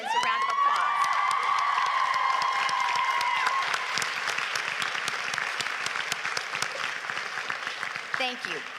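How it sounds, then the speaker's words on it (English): Graduates at a University of Kentucky College of Nursing pinning ceremony stand and applaud their families and friends, a loud, sustained wave of clapping mixed with cheers and whoops that slowly thins toward the end. "let's give all of your families and friends a round of applause"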